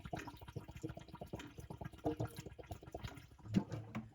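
An aquarium sump filter gurgles and splashes up close as the water level drops above and the sump fills after the pump shuts off, with irregular bubbling bursts and a louder glug near the end.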